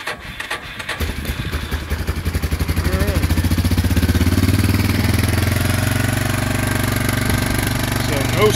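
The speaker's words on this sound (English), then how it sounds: "I think this one starts pretty decently without the choke. We'll go ahead and choke it." A 2003 Yamaha Big Bear 400 four-wheel-drive ATV with push-button start is choked and cold started, cranking briefly before catching and settling into a loud, steady, close idle.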